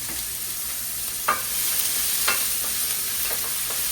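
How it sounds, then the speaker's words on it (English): Onions cook in olive oil in a pot that is still warming up, giving a soft continuous sizzle with a few scraping stirs, close and steady, with no voices. "I'm going to cook my onions"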